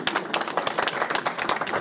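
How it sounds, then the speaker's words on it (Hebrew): An audience claps and applauds in a steady patter of many hands, fairly close and continuous, at a synagogue gathering. "עוד פעם מחיאות כפיים."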